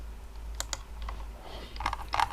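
Computer keyboard keys pressed for shortcuts in Microsoft Word 2016, a few quick clicks alone, close and fairly quiet with a brief double press at the end.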